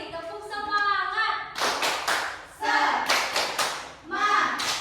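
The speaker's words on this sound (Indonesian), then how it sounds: "Sekali lagi, tepuk semangat." A class of children repeats the rhythmic tepuk semangat spirit clap. It opens with a chanted voice, then comes loud, close clusters of quick hand claps in three bursts, mixed with children's shouts.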